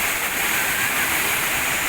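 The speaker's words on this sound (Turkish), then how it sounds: "o gördüğümüz şelalenin bir üst kısmından bakacağız" Karapınar waterfall at the source of the Gediz River, a steady loud rushing roar of falling water, close and continuous with no breaks and no talking.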